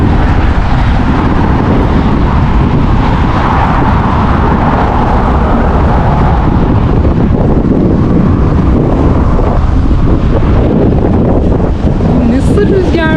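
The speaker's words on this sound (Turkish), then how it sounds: "Şimdi de deli gibi rüzgar var her tarafta." Strong wind buffets the microphone outdoors in St. Petersburg, Russia, a loud, continuous broadband roar with gusting surges that persists throughout, with traffic-like rumble mixed in.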